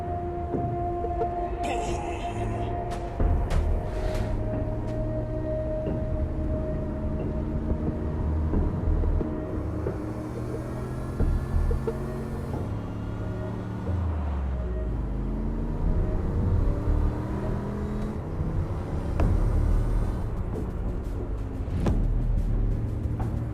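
A car driven in the game Saints Row: Gat Out of Hell, its engine droning steadily and rising and falling in pitch as it revs, with a continuous road rumble under a game soundscape.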